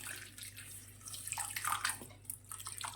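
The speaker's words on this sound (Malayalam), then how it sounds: "പിന്നെ ഒരു ഗ്ലാസ് വെള്ളം കൂടെ നമുക്ക് ഒഴിച്ച്" Water poured from a glass onto tea leaves in a pan, a soft, fairly faint splashing pour that swells and trickles over a few seconds, with no voices.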